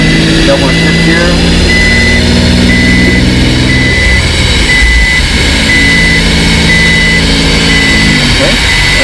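An Infiniti Q50 engine drones loudly and steadily from inside the cabin while the automatic transmission shifts at low RPM, with a faint repeating chime and a person talking over it.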